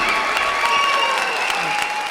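Applause from an audience at a Tamil speech event in Detroit: dense, steady clapping from a large crowd, loud and continuous without a break.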